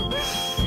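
A discount supermarket's alarm goes off in the Fireman Sam cartoon, sounding as a steady, high, piercing electronic tone that holds for the whole moment.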